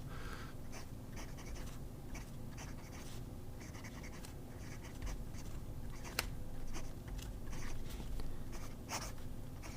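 An aluminum fountain pen with an engraved nib scratching across paper in quick repeated strokes, faint and close, with no voices.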